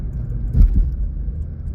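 A car creeps along slowly, its engine a steady low rumble that swells slightly for a moment and then settles. No one speaks.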